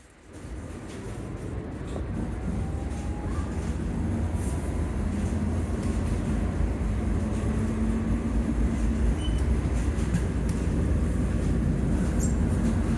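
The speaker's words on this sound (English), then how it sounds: "Here comes tram 2539 heading to Beckenham Junction." A London tram heading to Beckenham Junction rumbles steadily closer, a low continuous roar of wheels and motor that gradually grows louder, with no voices.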